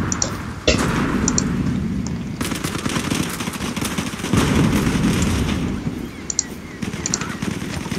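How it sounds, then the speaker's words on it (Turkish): Video game combat with rapid bursts of close, loud gunfire and thudding explosions from a thrown bomb, forming a dense, continuous barrage with only faint talk beneath. "Şey bomba atalım."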